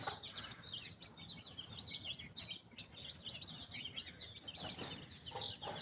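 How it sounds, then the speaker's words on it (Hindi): A mother hen clucks softly as she breaks up grain and feeds her chicks, with high chick peeps scattered throughout, all fairly faint and close. "देखिए मुर्गी अपना चूज़ों को दाना तोड़ तोड़ के खिला रही है।"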